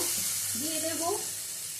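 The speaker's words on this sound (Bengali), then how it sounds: "যে তেলটা ছিল সেই তেলের মধ্যে দিয়ে দিচ্ছি পেঁয়াজটা দিয়ে পেঁয়াজটা ভেজে নেব।" Onions fry in hot oil for a raw jackfruit do pyaza: a steady, close sizzle and hiss runs throughout, with a faint wavering squeak from stirring partway through and no talking.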